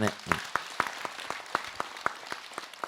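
Modest applause from an audience at a Buddhist dharma talk show, a dozen or so sharp, fairly evenly spaced claps ringing out in a hall, moderately close and not very loud.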